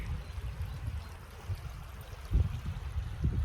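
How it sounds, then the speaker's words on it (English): A woodland stream runs steadily in the open air, its water making a low, continuous rushing and burbling with small swells in volume and no voices. "Sophanista, can you hear the water?"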